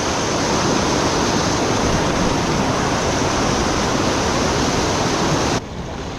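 A loud river in upper Deception rushes hard and constant along a trail-run route, a dense roar that fills everything. Near the end it drops to a slightly duller, quieter rush.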